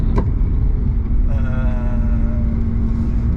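A BMW M2 Competition drives along with a steady, low engine rumble and road noise. A brief rising tone joins midway, all close and continuous.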